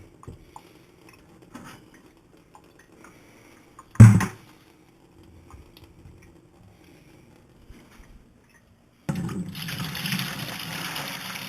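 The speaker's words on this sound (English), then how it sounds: "I'm going to pour it in the bucket." Murky water from a whole-home water filter, an Ecopure EPW04, is poured into a bucket, heard as a gushing, splashing flow near the end, after quiet handling clatter and a sharp knock.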